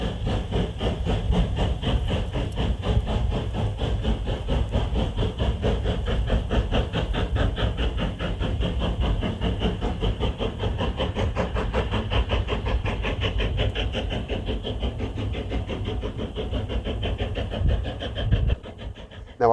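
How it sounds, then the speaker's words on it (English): A steady low rumble fills a moving train carriage on the Isle of Wight's Ryde to Ashey line, with a rhythmic clatter of wheels running underneath throughout. "Right now though, I'm back on the train."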